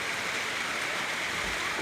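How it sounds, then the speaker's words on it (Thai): Steady rain gives a dense, even hiss with no breaks. It sounds close and fairly loud. "ฝนตก"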